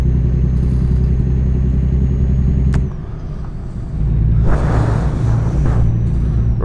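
A heavy truck engine in American Truck Simulator rumbles loud and steady, dips briefly as the load eases, then surges back with rising roar as it pulls uphill.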